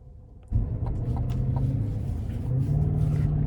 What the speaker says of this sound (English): let's go ahead and take this 2024 Escalade Sport Platinum out on the road for a quick test drive